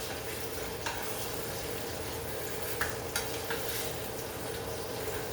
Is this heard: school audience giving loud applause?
no